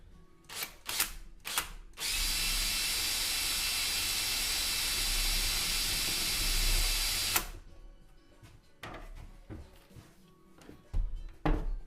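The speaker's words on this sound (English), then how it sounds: "drill again, 3/16 inch bit, brad point bit" A power drill with a 3/16 inch brad point bit whirs steadily for several seconds, loud and close, framed by brief clicks and handling noises before and after.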